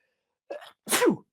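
One sharp human sneeze, close and loud, with a brief intake before the burst, in an otherwise quiet room.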